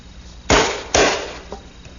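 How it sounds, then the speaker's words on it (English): A small spring-loaded corner chisel snapping into a wooden corner, two sharp loud clacks about half a second apart followed by a faint softer tap. "I'm going to use this tool here, which is just a little corner chisel that's spring-loaded, and it does a great job"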